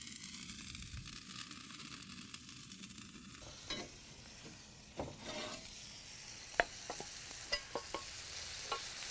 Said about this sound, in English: Sizzle, sizzle, hot girl summer.